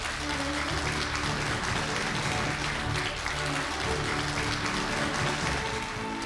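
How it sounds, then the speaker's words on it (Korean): A lecture audience claps to welcome a professor onto the stage for a history talk, producing a dense, continuous wash of applause at a fairly constant level throughout the few seconds. "큰 박수로 모시겠습니다."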